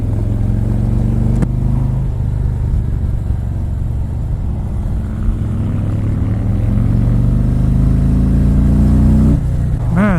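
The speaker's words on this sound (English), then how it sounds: "Let's see how this bike revs." A 2018 Harley-Davidson Ultra Limited's Milwaukee-Eight 107 V-twin drones loudly and continuously, its pitch rising and falling as it revs and shifts, with strong wind rush throughout.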